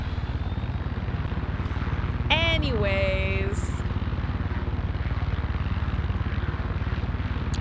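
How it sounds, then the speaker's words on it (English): A helicopter in Far Cry 6 drones with a steady, pulsing rotor hum throughout, with a brief tonal in-game effect layered over it midway and a single spoken word. "let me just take the helicopter"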